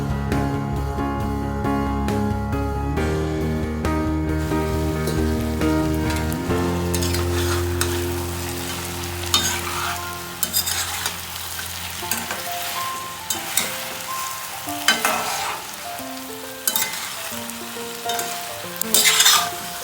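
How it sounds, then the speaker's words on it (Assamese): Steady sizzling of potatoes and chopped spices frying in a pan for chicken curry, with stirring and scraping, a sustained tone sounding under the first few seconds before the frying carries on alone. "তাতে আলু আৰু কাটি লোৱা জাতিলাওখিনি দি অলপ সময় আকৌ ভাজি থাকিলোঁ"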